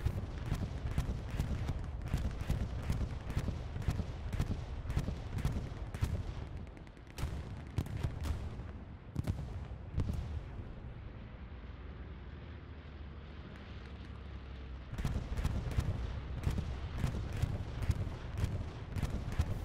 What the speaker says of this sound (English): Got a bombing run from Big Red One right now.